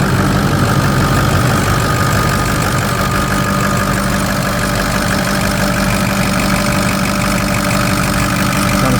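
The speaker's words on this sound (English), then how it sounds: "Got a smooth idle. It doesn't shake, as you can see. No noises." Idling Ford 6.0 Power Stroke diesel engine: a loud, steady, close rumble with an even clatter that runs unbroken for the whole stretch, with no voices over it.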